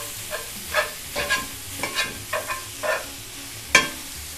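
Meat browning in a little oil in a pan over medium heat, with soft intermittent sizzles and occasional stirring scrapes, close and moderately quiet.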